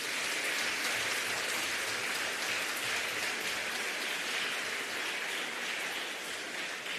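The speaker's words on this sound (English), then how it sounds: "please give an equal rousing applause to the Honourable Mr. Patrick" An audience at a swearing-in ceremony for a Court of Appeal president gives sustained, even applause, a dense continuous wash of clapping with no speech over it.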